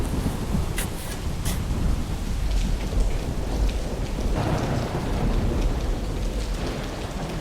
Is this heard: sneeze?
no